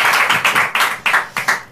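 Studio audience on a late-night German talk show claps, heard close as a few loud rhythmic bursts of hands, roughly in time, fading toward the end.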